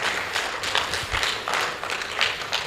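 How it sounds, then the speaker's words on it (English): Audience applause at a business integrity seminar, a steady patter of many hands clapping at moderate distance, uneven and continuous over a few seconds. "Please, a warmer round of applause."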